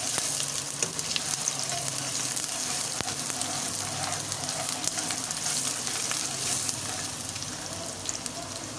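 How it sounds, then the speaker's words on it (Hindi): Onions frying in a pan until brown, a dense, steady crackling sizzle close up, with occasional light stirring clicks over the whole stretch. "प्याज को अच्छी तरह ब्राउन होने देंगे।"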